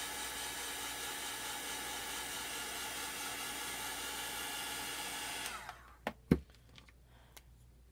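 A hair dryer blows steadily and loudly on freshly pasted chalk art paste over a stenciled vintage tractor and truck design, a continuous broadband whoosh that cuts off abruptly near the end, followed by a few sharp handling clicks.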